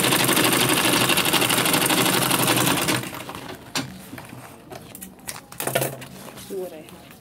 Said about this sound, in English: I'll stitch it again by bringing it.